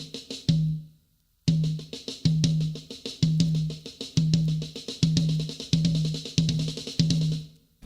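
A drummer plays repeated six-stroke roll rudiments with accents on a drum kit, in short bursts after a brief pause, each figure a quick cluster of strokes ending in a ringing accented hit.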